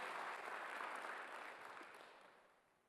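A church congregation claps together during a Sunday worship service, a dense, even burst of many hands that stays full for a moment and then gradually tapers off.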